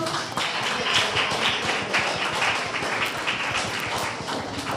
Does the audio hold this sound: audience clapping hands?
yes